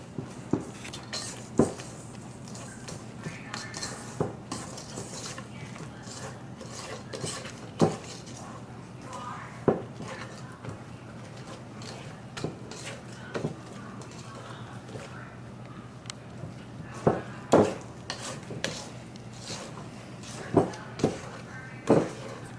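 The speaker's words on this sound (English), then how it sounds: "we're just going to whisk this until combined" A whisk taps and clatters against a bowl while cupcake batter is mixed, irregular sharp clinks over a steady soft swishing, close by, with a voice speaking under it at times.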